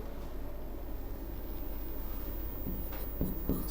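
Pen or chalk writing on a surface, soft scratchy strokes close by against a quiet background, with a few sharper scrapes near the end.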